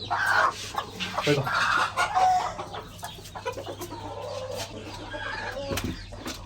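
Hens cluck and squawk repeatedly at close range, several birds overlapping in a busy, continuous chatter with occasional louder calls.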